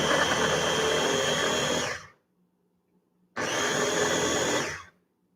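A kitchen food grinder whirs loudly in two separate bursts of about two seconds each, cutting off sharply with a quiet pause between them.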